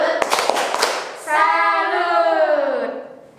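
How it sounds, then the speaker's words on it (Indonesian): Children at a Catholic parish children's service perform a 'tepuk salut' clapping chant, several quick claps opening the clip, then a sustained sung or shouted voice holding a long note, fairly close and loud. "Tepuk salut dulu ya Kak, buat adik-adik."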